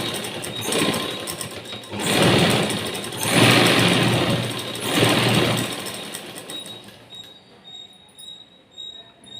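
A sewing machine stitches a blouse in several sustained bursts of whirring motor and needle clatter, close and fairly loud, then quiets toward the end.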